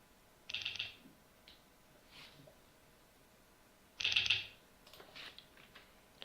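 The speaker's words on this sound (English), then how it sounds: "And now I'm actually using the keyboard." Two short bursts of computer keyboard typing, about a second each and a few seconds apart, with faint scattered clicks between them, while playing an online American Mah Jongg game.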